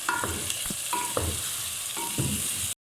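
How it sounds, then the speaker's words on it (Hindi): Chickpeas are stirred and roasted in a hot pan, a steady close sizzle broken by repeated scraping strokes of a spoon against the metal. "5 मिनट तक चनों की भुनाई करेंगे"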